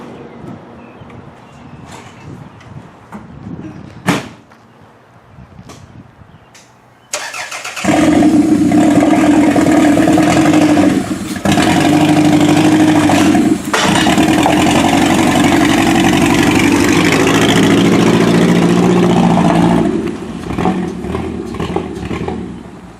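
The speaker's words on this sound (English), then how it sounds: "So let's get this thing out of the shop." A Toyota Solara demolition derby car fires up inside a shop after a few quiet clicks and knocks, then its engine roars loudly and steadily as it idles and revs before easing off near the end.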